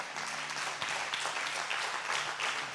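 A church congregation applauds steadily throughout, a dense wash of many hands clapping with no gaps and no clear voices over it.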